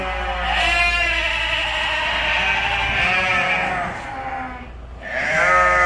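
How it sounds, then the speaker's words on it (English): Goat bleating loudly and close by in two long wavering calls, the second starting after a brief pause, with no talk. "here we have a goat"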